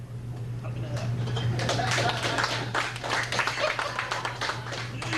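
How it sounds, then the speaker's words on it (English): A comedy club audience gives scattered, lukewarm applause, a light patter of clapping that runs steadily under a low hum. "Thank you for the jaded applause."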